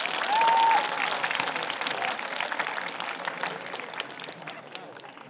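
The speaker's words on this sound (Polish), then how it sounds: "Oklaski na zachętę, moi drodzy." Audience applause and cheering at a school show, a burst of clapping and crowd noise that stays steady at moderate volume, with a voice briefly over it at the start.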